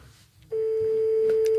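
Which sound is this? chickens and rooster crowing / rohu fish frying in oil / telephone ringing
telephone ringing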